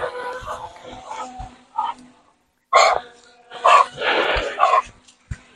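Dogs barking outdoors in a rural village, a few short sharp barks in bursts separated by pauses, fairly close and loud, with a voice talking intermittently between them.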